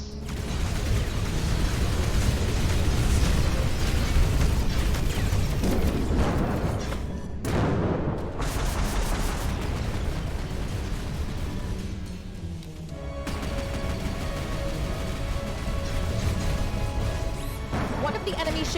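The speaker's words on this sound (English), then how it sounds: "One of the enemy ships has been destroyed." Booming explosion from a space combat video game as an enemy ship is destroyed, a loud dense crash with rumbling low end that sustains for many seconds amid continuous game sound and effects.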